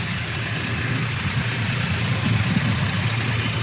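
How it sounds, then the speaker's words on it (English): A 70A loader tractor engine runs at a steady idle on a grain farm, a constant low heavy rumble alone. "This is our tractor that we're running. The 70A, the loader tractor that we use a lot."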